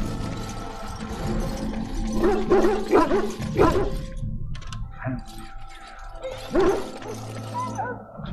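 A dog barks a few times in the fantasy role-playing game Dragon Age: Origins, moderately close, over a steady bed of game ambience and music.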